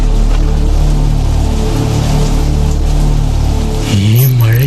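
Rain effect from a Malayalam radio drama: a steady, dense hiss of rainfall fills the scene, with a wavering voice-like tone rising over it near the end. No distinct thunder stands out.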